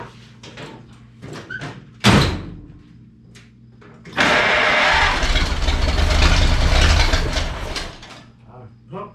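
An old carbureted engine with worn gaskets and an exhaust leak cranks at about two seconds, then catches and runs loudly from four to eight seconds, with a rough, close idle before it cuts back down.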